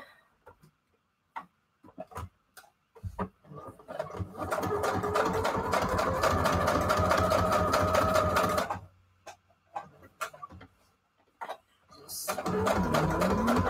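A domestic sewing machine runs a straight stitch through fabric for an envelope, a steady rapid whir lasting several seconds, with shorter bursts and clicks before and after while a person talks intermittently.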